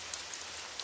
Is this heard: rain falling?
yes